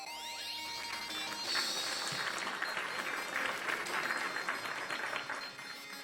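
Steady applause from a crowd, dense clapping that swells slightly and then tapers off near the end.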